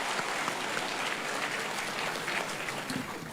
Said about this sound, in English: let us give them a warm round of applause to show our appreciation